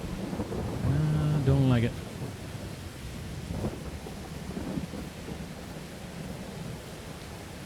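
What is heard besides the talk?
rain and thunder in video game Farming Simulator 22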